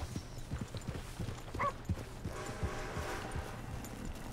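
Horse hooves clip-clop in steady, close rhythm in the Red Dead Redemption 2 video game, a stolen horse walking along with game ambience underneath.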